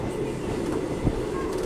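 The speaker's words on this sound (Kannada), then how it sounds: "ಈಗ ಡಿಪಾರ್ಚರ್ ಆಗ್ತಿದೆ ನಮ್ಮ ಟ್ರೈನ್. ಸಿಗ್ನಲ್ ಕೊಟ್ಟರು, ಸ್ಲೋ ಆಗಿ ಮೂವ್ ಆಗ್ತಾ ಇದೆ." A Ballari to Davanagere DEMU train pulls away slowly with a steady low rumble of rolling stock and a brief heavier thump near the middle, moderately close and continuous throughout.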